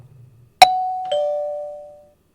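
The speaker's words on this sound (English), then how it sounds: "Loud doorbell noise." A loud electronic doorbell in a video game chimes two clear tones, ding then dong, ringing out cleanly against silence after a faint low murmur.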